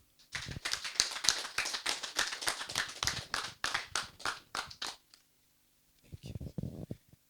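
A burst of applause, many hands clapping together for several seconds, then a short pause before a second, quieter round of clapping.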